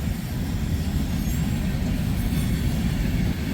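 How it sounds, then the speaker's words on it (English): Freight train cars with tank cars roll past steadily and close, a continuous heavy low rumble with rhythmic rail clatter and no letup, in New London, Ohio. "668 axles on this train"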